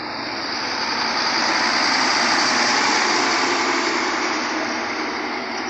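Trailer truck waiting in a queue to load steel at a factory, its engine running in a continuous loud, even drone with a strong hiss, steady throughout with no talk.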